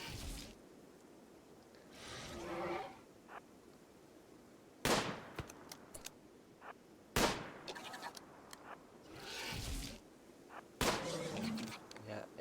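Gunfire in the colony survival game RimWorld: sharp single shots crack out at irregular intervals, loud and close, with quieter bursts and a muffled voice in between.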